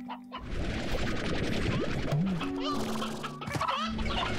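Chickens in the Slime Rancher video game cluck and squawk in a busy run of short calls over a steady game ambience, with a few louder close clucks and tonal chirps.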